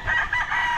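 A gamefowl rooster crows on a breeding farm, one brief, loud, close burst of its call.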